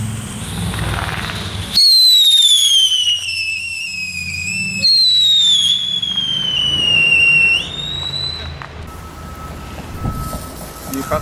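Whistling Funke Luchthuiler fireworks launched from the ground outdoors near grass, each giving a loud, piercing shriek that glides slowly downward for a few seconds, one after another, then fades into quieter outdoor ambience.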